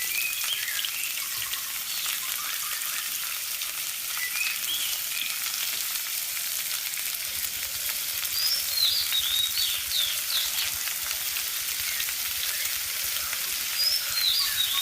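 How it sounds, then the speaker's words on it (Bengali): Fish fry in hot oil in a pan, giving a continuous loud sizzling hiss with faint crackles and pops throughout and no talk. "কিছুক্ষণের মধ্যে তেলটি গরম হয়ে গেলে মাছগুলো ফটাফট ছেড়ে দেয়"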